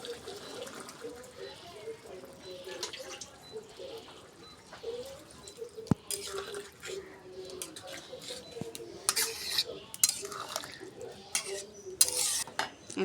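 Broth is poured into a cooking pot, a soft watery splashing and trickling with a few metallic clinks of pot and utensils, close and moderate in level, with a person speaking now and then.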